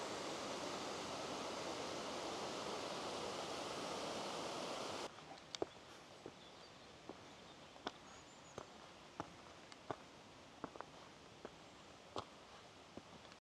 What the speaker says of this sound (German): Da unten rauscht der Bach.